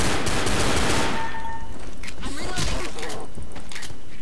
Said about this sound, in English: My gunshot was so loud.